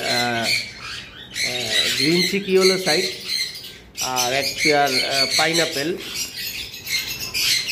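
Caged English budgerigars squawk in repeated harsh bursts at close range, with someone talking over much of the calls.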